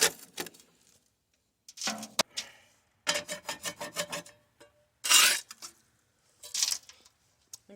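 An old steel shovel from wood stove days scrapes ash and residue out of a Crown Royal 7300E outdoor wood boiler, heard as several separate rasping, scraping strokes with brief metallic knocks and quiet gaps between them.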